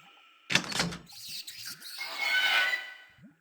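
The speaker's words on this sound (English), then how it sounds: "The hatch has opened," A video-game hatch is levered open with a rod: a sharp metallic clank and scrape, then a longer grinding, creaking swell as the hatch gives way, with small squeaks between, fairly close.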